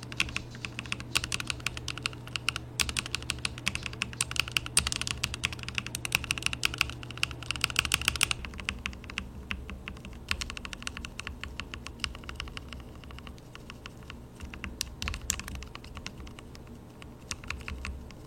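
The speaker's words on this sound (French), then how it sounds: "petit test de son, avant, après" Rapid, steady typing on an Asus ROG Azoth mechanical keyboard, with dense clicky keystrokes over a low hum that drops out partway through.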